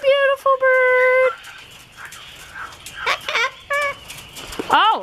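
A Moluccan cockatoo and a sulphur-crested cockatoo, both kept in an aviary, give a few loud whistled and squawking calls in short bursts, with a person speaking softly between them.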